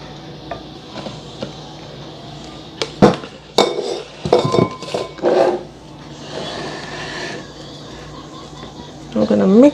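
Peanut punch ingredients stirred together with leftover Irish Moss mix in a container, bringing scattered clinks and knocks of a utensil against the vessel amid background noise, with a louder rattling burst near the end.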